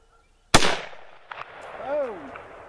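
A single loud M1 Garand rifle shot fired on an outdoor range, a sharp close blast with a trailing echo, followed by faint background sounds and a brief voice-like tone.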